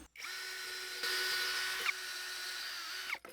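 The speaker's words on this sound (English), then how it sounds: "pre-drill hole here using this drill" An electric drill pre-drilling a mounting hole for a retractable hose reel whirs up close for about three seconds, a steady high whine that briefly bogs down before stopping.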